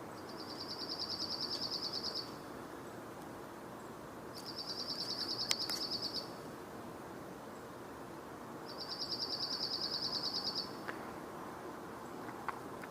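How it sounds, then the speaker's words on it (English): A chipping sparrow or dark-eyed junco sings three dry, rapid trilled phrases, each about two seconds long, spaced several seconds apart. The bird is moderately distant and the trills carry over steady outdoor background noise. "I'm not sure if we're hearing a chipping sparrow or if we're hearing a dark-eyed junco."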